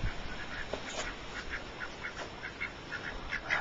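Ducks in a barn enclosure give a string of nasal quacks in irregular bursts, near and moderately loud, overlapping each other over a low background hiss.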